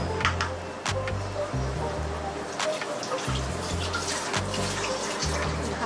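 Hands washed under a running kitchen tap, steady splashing water with brief pauses and gurgles, close and fairly loud.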